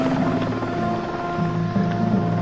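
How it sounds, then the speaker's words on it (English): A helicopter in the game Evil Genius lifts off with a loud, steady whirring drone and low tonal hum that rises and shifts slightly over a couple of seconds, heard close with nothing else over it. "Helicopter going off as we speak."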